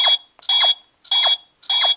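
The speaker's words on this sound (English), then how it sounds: "the odd numbers, 1, 3, 5, 7, 9, all have the same high-pitched beep" Four loud, high-pitched electronic button beeps in an even rhythm, each lasting about a quarter second with brief silences between.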